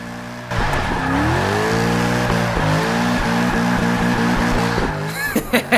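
A 2016 Mercedes C63 AMG S Coupe engine in Forza 6 roars loud and close, its pitch climbing then dropping through repeated gear shifts, with crackling pops at the end.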